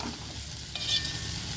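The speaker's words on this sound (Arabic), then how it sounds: "شوحت البصلايه شويه في شويه زيت صغننين خالص، ورحت رامي عليهم القوانص" Finely chopped onion and small pieces of chicken gizzard sautéing in a little oil, a short burst of steady close-up sizzling and crackling with no voices.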